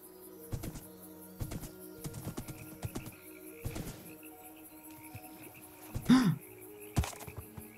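A horse is ridden in Minecraft, its hooves tapping in quiet, evenly spaced clusters of soft clip-clops. A brief snort or whinny-like sound comes near the end, with no talking.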